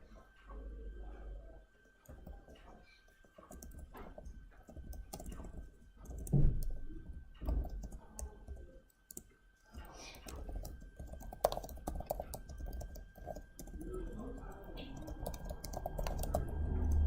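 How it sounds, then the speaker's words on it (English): Steady typing on a computer keyboard, close and fairly quiet, with irregular bursts of key clicks and brief pauses, occasional soft voices in the background. "I'm typing this up"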